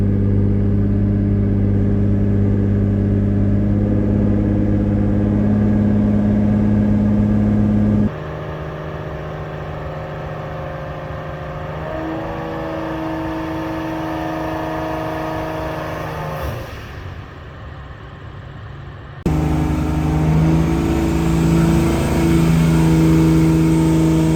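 Turbocharged, forged BMW E30 with an M50 engine, loud and close, revving hard on throttle in long sustained pulls with shifting harmonic tones, a brief dip near the end before the engine roars back.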